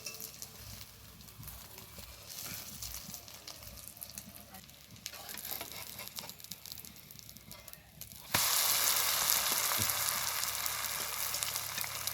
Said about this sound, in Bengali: এবারে উনুনের আঁচটা হালকা আছে, এটাকে ভাজতে হবে